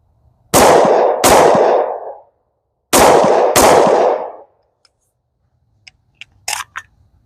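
A 10mm pistol fires CCI Blazer aluminum-case rounds outdoors in four loud, close shots, paired two and two, each ringing out with a long fading tail, followed by a few faint metallic clinks.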